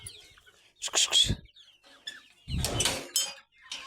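Chickens clucking close by in a few short, irregular bursts separated by quiet gaps.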